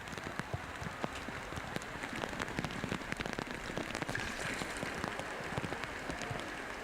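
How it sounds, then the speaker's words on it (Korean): Steady summer rain shower pattering on lotus leaves and surfaces, dense and continuous with sharp individual drops standing out, fairly close. "여름철 소나기는 연밭의 또 다른 멋입니다."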